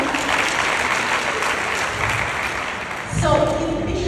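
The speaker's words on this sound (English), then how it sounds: "Please give him a big hand clap" Audience applause for a speaker at a youth leadership event, a steady dense wash of clapping that carries on for several seconds before a voice begins over it near the end.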